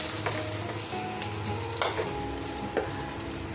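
Minced garlic sizzles steadily in a tablespoon of hot cooking oil in a pan for a Filipino ground-meat sauté, with occasional stirring scrapes over a constant frying hiss and no talking.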